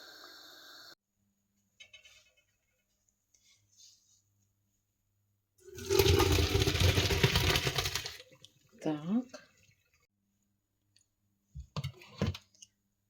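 Boiled clouded agaric mushrooms tipped into a sieve give a loud wet splashing pour of about two seconds, followed by a few short squelching and clattering bursts. Quieter handling noises sit before and after.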